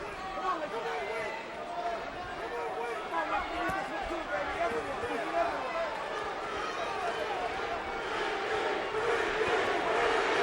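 A boxing arena crowd at a Shane Mosley versus Winky Wright fight roars and chants in rising waves, a dense, distant mass of voices swelling louder toward the end.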